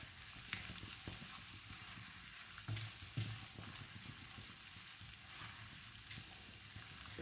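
Steady sizzling and crackling of ginger and garlic frying in hot oil for Punjabi saag, close and continuous, with occasional soft knocks of a utensil.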